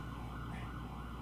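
An ambulance siren wails faintly under a dense, steady background hum, its rising and falling tone only partly standing out over the short stretch.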